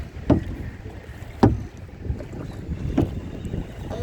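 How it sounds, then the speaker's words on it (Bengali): Gusty wind buffets the microphone on a park lake during kayaking, with strong periodic bursts of rough blowing, probably paddle strokes, over a steady low rumble. "এত বাতাস কোন দিক থেকে আসলো?"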